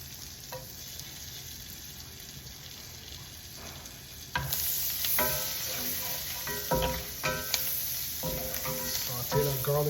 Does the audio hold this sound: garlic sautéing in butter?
yes